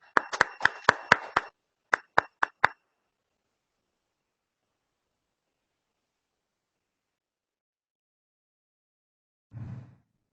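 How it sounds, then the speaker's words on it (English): Several sharp claps in quick succession from an online conference audience welcoming a speaker to a technical session on digital taxation, followed by a pause and a second short burst, then long silence and a faint low thump near the end. "Let us all welcome Harshita Kothari with a huge round of applause"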